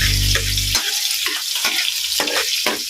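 Sautéing in a pan for pinakbet, a Filipino vegetable dish: loud, close bursts of frying and stirring after a brief snatch of music at the start.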